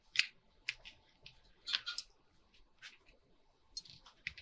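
Scissors snipping through paper while making a concertina fold-out journal with pockets, a handful of sharp, separate cuts with quiet gaps between them, close and crisp with no talking.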